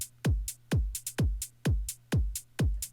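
Synthesized drum line with a punchy, booming kick falling in pitch on each hit, about six even beats, with crisp hi-hat ticks between them. Steady, loud and close, with no voices.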